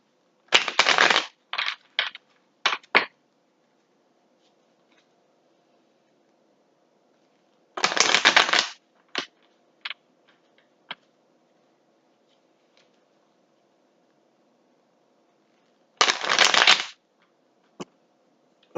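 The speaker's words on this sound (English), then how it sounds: "I'm going to shuffle." Tarot cards shuffled in three separate bursts of riffling, each about a second long, followed by a few quick taps and flicks, close up with quiet pauses between.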